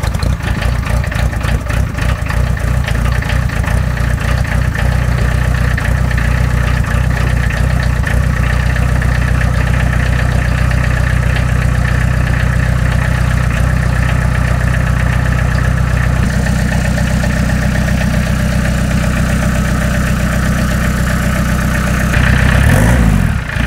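A turbocharged Citroën C25 4x4 van engine with a stainless steel exhaust rumbles steadily at idle throughout, low and droning, with a brief rise in revs near the end.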